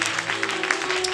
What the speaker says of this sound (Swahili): Haujapiga makofi vizuri.